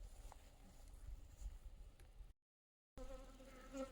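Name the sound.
bees buzzing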